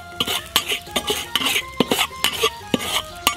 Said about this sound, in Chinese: 盐炒热，加上花椒，